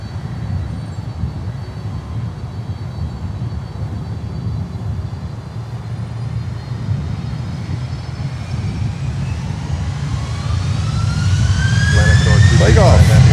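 Airliner taking off at Miami International Airport, a steady low engine roar building in loudness toward the end with a rising whine, fairly distant and continuous.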